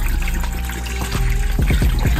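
Vinegar poured in a steady stream into a container for Filipino chicken adobo, a close, loud trickling splash with bubbling gurgles throughout.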